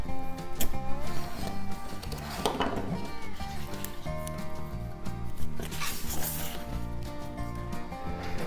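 Ripping, zipper-like pulls and crinkles of half-inch tape being drawn off and pressed onto a handmade journal, close and busy, over a faint musical background.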